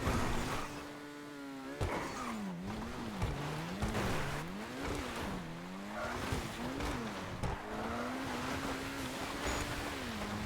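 A Sports Classic car driven in GTA V Online time trials, its engine revving up and down through gear changes in a rising and falling whine, with occasional thumps and tyre noise, loud and close.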